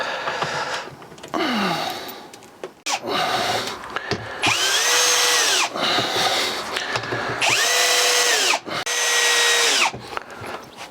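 Power drill driving screws into a Keter Denali 100 plastic garden box, several close, loud whining bursts of rising and falling pitch, separated by brief pauses and shuffling.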